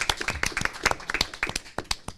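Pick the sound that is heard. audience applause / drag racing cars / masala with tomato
audience applause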